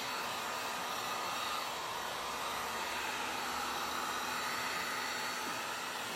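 A hair dryer blows steadily and close up over a wooden sign painted with Dixie Belle paint, a constant loud whooshing roar with no breaks.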